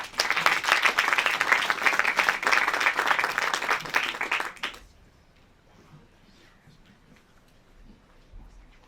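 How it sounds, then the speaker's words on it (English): An audience applauds a guest speaker from OpenAI at a summit on AI and creativity, a full, loud burst of many hands that cuts off after about four and a half seconds, leaving a quiet room. "give a big round of applause for Mark Chen from OpenAI."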